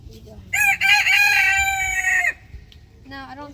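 A rooster on a farm crows once, loud and close, with a long harmonic call lasting about two seconds, followed by softer fowl clucking and calls near the end.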